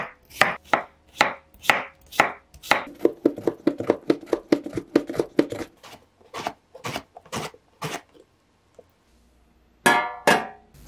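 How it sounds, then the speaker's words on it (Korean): A knife slices a peeled cucumber as thin as possible, making a quick run of close, crisp chopping taps on a board that slows into spaced single cuts. After a short pause, a final burst of rapid cuts follows. "오이 껍질은 대강 얇게 벗기고 가능한 얇게 썰어주세요."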